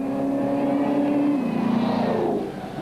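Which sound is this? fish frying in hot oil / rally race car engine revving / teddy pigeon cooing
rally race car engine revving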